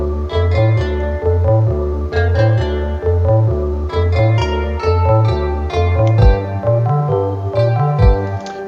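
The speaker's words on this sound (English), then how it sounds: "So let's bring the kick in next, which sounds like this." A kick drum within a song mix thumps loud and steady in a regular beat, its low punches set against sustained musical tones, with no one talking.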